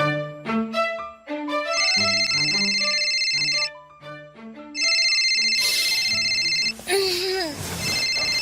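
Telephone ringing in a Filipino radio drama, with repeated bright electronic ring tones sounding in bursts over a musical background, loud and close.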